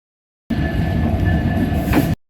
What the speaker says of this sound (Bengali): এই হলো কুড়িগ্রাম রেলওয়ে স্টেশন এই ট্রেনটি চলে গেলে হয়তো নীরব হয়ে পড়বে